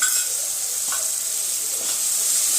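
Tomato goes into a hot pan while sautéing for sambar, and the pan gives off a steady close hiss of sizzling with a few faint stirring scrapes.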